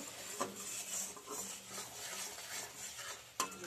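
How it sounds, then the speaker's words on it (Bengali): Ground spices with green chillies are stirred and fried in a pan, soft sizzling with spoon scrapes and a couple of sharp clinks against the pan, faint and close. "দিয়ে আমি ভালো করে নেড়ে করে কষিয়ে নেব।"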